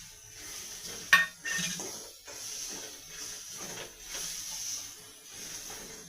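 Fish masala with dried fish being stirred in a pan on a low gas flame: soft scraping of a spoon against the pan with a gentle sizzle, one sharp clink, faint and close.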